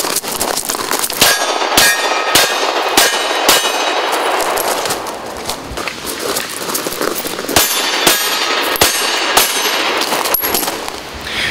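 Rapid gunfire rings off steel targets while the shooter moves, sharp loud clangs spaced about half a second apart in bursts, each shot followed by a bright metallic ring, with no voices.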